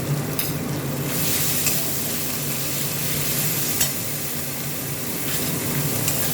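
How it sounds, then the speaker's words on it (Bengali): Ginger paste with spices sautéing in oil for a crab curry, a dense, steady, close sizzle with faint stirring scrapes now and then, with no voices. "এটা ভালোভাবে আমি কষিয়ে নেব"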